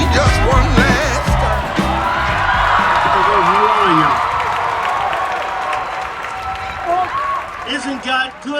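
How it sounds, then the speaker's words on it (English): An outdoor reparations rally crowd applauds and cheers for a guest speaker, loud sustained clapping with whoops and yells while a voice talks and music plays over the crowd noise, which thins toward the end. "please welcome the first amazing guest speaker today, Dr. Randy Short. Clap it up."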